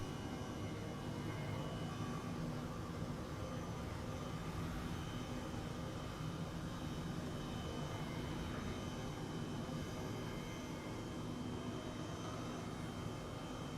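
Steady, broadband turbine and rotor roar of an Airbus H135 helicopter lifting off, loud and close throughout with no talking.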